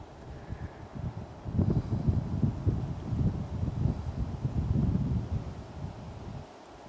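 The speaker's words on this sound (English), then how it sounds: "The wind in the pines." Wind blowing through pine trees beside a large forest clearing near a lake, a steady low rushing roar that swells and gusts for several seconds, fairly close and continuous with no voices.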